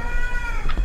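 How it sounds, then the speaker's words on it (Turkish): A single cat meow from the horror video game Erie rings out clearly in under a second, with a faint low rumble of game ambience beneath it. "Burada gene kedi sesleri geliyor."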